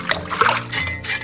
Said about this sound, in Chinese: 然后用温水给它刮干净。